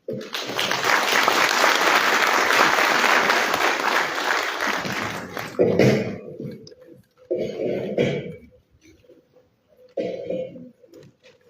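An audience applauds after a special statement at an association general assembly in Monrovia, Liberia: loud, dense clapping for about five seconds, then several shorter bursts of clapping separated by near-silent gaps.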